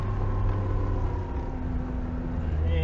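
A Lada Niva 4x4 on mud tyres with self-locking differentials crawls through mud in third low gear, its engine a steady, close, low droning rumble throughout.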